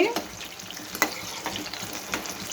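Ingredients for a brinjal chutney fry in hot oil with a continuous close sizzle, broken by a few scraping stirs and clicks of a spoon against the pan, with no voices.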